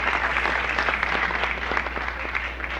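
A crowd applauds steadily throughout a ceremony between Nixon and Brezhnev, with dense, even clapping heard through a slightly dull, hissy archival recording.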